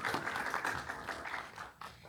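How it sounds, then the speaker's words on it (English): An audience at a panel discussion claps together in a steady, fairly faint patter of applause that fades slightly toward the end, with no talk over it. "So give yourselves a round of applause"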